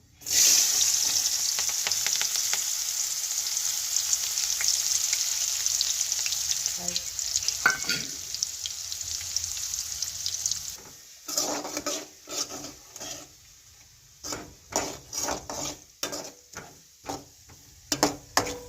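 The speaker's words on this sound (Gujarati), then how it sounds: "તેલ થઈ ગયો ડુંગળીનો વઘાર કરી નાખીએ" Loud sizzling of onions dropped into hot oil for tempering, a continuous crackle that fades, followed by scattered stirring clanks and scrapes of a pan.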